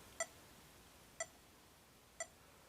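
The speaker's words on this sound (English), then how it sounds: "this is a Korg MA-1 metronome" Three evenly spaced beeps from a Korg MA-1 electronic metronome, short and crisp, one per second against quiet background hiss.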